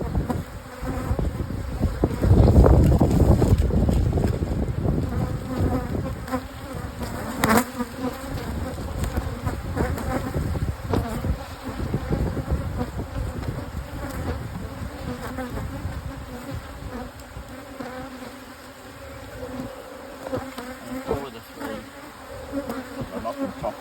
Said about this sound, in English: we've got all sorts of bees in there